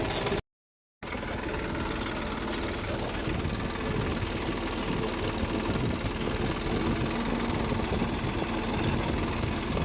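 A tractor engine runs continuously in a steady, fairly loud drone with a chugging mechanical vibration, after a brief gap at the start.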